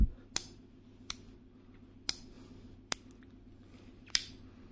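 Five sharp metallic snaps from a pocketknife's safety lock, spaced about a second apart, crisp and close, over a low steady hum with no talking.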